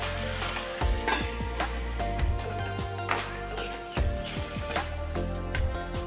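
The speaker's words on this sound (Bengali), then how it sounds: "এতিয়া মই কেৰাহীখন পাতি মিঠাতেল গৰম হ'বলৈ দি ইয়াত মই ঢেঁকীয়া আৰু আলু দি দিছোঁ" Fiddlehead ferns and potatoes fry in hot mustard oil in a kadai, giving a steady, dense sizzle close by with intermittent scraping and stirring strokes throughout.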